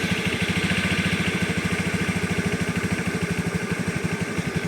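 A carbureted 2011 Honda Scoopy scooter engine idles steadily up close, its rapid even pulsing putter holding a constant rhythm with no voices.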